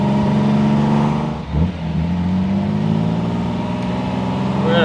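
A 1957 AC Ace Bristol sports car engine hums steadily from inside the cabin at cruising speed, with a brief dip and recovery as the revs shift, loud and continuous without talk.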